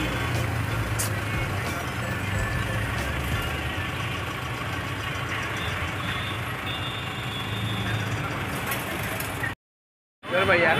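Busy road traffic at Shivaji Chowk in Kalyan, with trucks and buses idling and rumbling close by in a steady, dense wash of engine noise, a reversing beep audible, and a brief drop to silence near the end.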